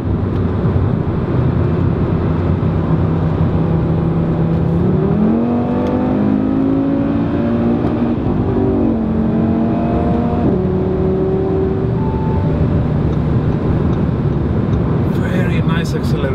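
An Audi RS3 sedan accelerates hard, its engine and exhaust close and loud, the tone climbing through the revs with a drop at each gear change before pulling upward again.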